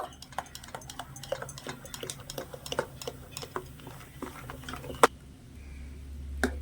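A spoon stirs rice flour batter after Eno is added, making quick repeated light taps and scrapes against the bowl in an uneven rhythm, fairly quiet, with one sharper knock near the end.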